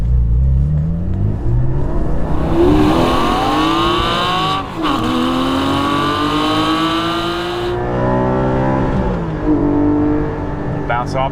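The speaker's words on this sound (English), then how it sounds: "Bounce off the rev limiter." A Porsche 718 GT4's engine revs hard and repeatedly climbs to bounce off the rev limiter, loud and close. The note rises and drops across several sweeps, with a brief cut near the middle.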